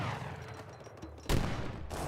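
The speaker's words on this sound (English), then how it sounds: "French villager gets gunned down by the cannons" Cannons fire in Age of Empires 3: a sudden loud blast booms over low background battle noise, and a second burst of gunfire follows soon after.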